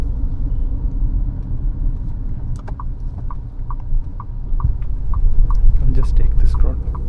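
A 2026 Tata Sierra with a 1.5L engine and automatic transmission drives along with a steady low engine and road rumble, a faint repeated ticking like an indicator over it, and no talk.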